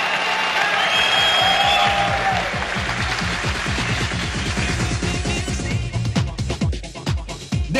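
Judo match crowd in 1998 cheering and applauding a winning fighter, a dense, loud roar of clapping and shouts filling the arena throughout, with voices mixed in.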